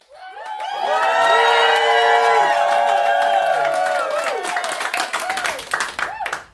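A roomful of rare disease families cheers loudly, with whoops, shouts and clapping swelling at once and holding for several seconds before breaking into scattered claps and voices.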